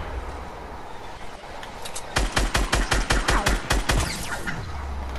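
Rapid bursts of automatic gunfire in Fortnite Battle Royale, a dozen or so sharp evenly spaced shots ringing out loudly after a stretch of ambient game noise, with a low rumble fading at the end.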